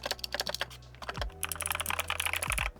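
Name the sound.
typing on ROG Asus Strix keyboard with NX keys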